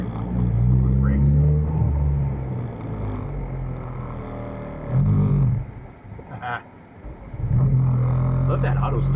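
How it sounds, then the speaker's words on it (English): A Ford Focus RS engine idles, cuts out, then quickly auto-starts back up and revs, with people talking over the rumble. "Love that auto start though. It like just starts right back up."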